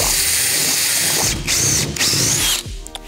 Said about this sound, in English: I'm gonna let it spin and kind of move the bit up and down a little bit